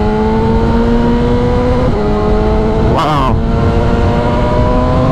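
BMW S1000RR sport motorcycle engine at steady high revs while riding, a loud continuous droning whine with harmonic tones and a brief surge around mid-clip, with a man exclaiming over it.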